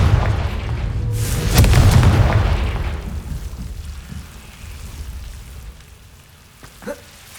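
A Confringo spell in the Hogwarts Legacy video game bursts into a loud, booming explosion with a crackling, rain-like rumble that fades over a few seconds, followed by a faint smaller pop.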